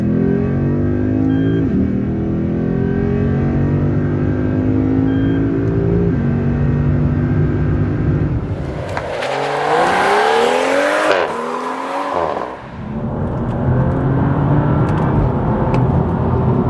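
A BMW M235i or Lexus ISF accelerating hard: a loud engine climbs steadily in pitch through the gears with an abrupt shift break midway, then keeps pulling close and strong throughout, with no talking.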